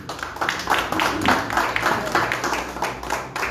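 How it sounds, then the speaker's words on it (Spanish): Press conference audience at a marathon event applauding the artists, a few seconds of steady, moderately close clapping from a modest crowd, with a faint voice underneath. "Un aplauso para todos los artistas hoy."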